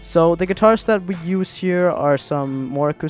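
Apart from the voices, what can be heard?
None of the usual background noises is heard.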